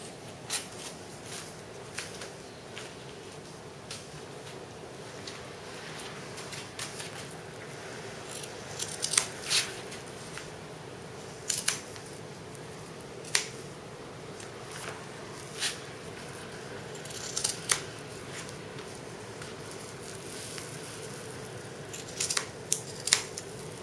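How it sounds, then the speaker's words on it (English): Scissors snip through fabric pieces for an insulated bottle cover, a quiet series of irregular close crisp cuts over a low steady background hum. "I'm going to cut these out"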